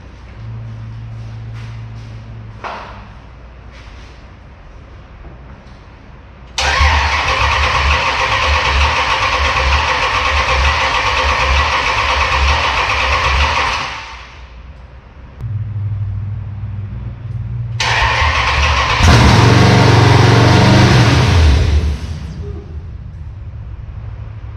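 A Gen III Hemi with Holley EFI cranks in short bursts, then fires for its first start and roars loudly for several seconds before cutting out. A second loud burst of running follows after more cranking.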